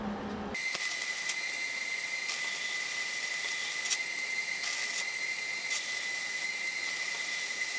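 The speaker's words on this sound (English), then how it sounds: "I've never welded with flux core, but it's not the worst" Flux-core welding on a plow repair for a side-by-side: a harsh steady hissing crackle with a high buzzing tone, loud and close, running continuously after a brief start, with no talk.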